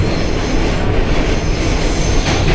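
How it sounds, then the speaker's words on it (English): A New York City subway train rumbles loudly and steadily, with wheel and rail noise and a faint squeal running through, close by and continuous with no voices. "So the third and final train that we needed to take."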